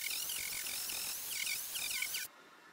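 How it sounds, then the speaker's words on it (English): A grinder works a windsurf board's footstrap plug down to the lamination, a steady high-pitched mechanical whine with wavering pitch that runs for about two seconds and then stops abruptly. "It's important to grind this down onto the lamination"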